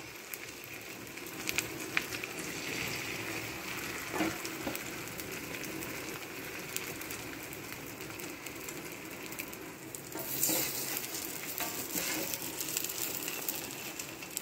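Egg omelette mixture with fennel seed masala frying in oil on a dosa pan, giving a steady, even sizzle throughout with a few faint clicks and small rises in level.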